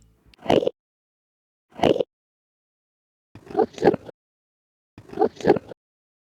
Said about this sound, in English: the Endermen have some interesting sounds compared to other mobs.